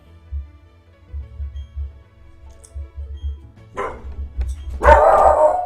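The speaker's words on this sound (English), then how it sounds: "dog might start barking in a second because the mail person's here" A house dog barks at the mail carrier, a few sharp barks building toward a loud, close burst at the end after a stretch of low rumbling background sound.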